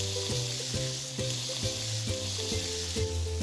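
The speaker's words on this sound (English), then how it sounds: "pan with a little bit of extra virgin Greek olive oil. That is a beautiful sound." Squid tentacles sizzle in a pan of extra virgin Greek olive oil, a steady close hiss with soft music playing underneath in a regular pulsing pattern.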